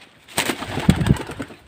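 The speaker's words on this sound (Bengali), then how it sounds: "আর একটি মাত্র পায়রা তাওয়ায় বসে আছে আর একটা এখানে আছে ছটপট করছে ভয়ে" Female pigeons coo in soft, throaty bursts close by, with a couple of louder low calls and some fluttery rustling.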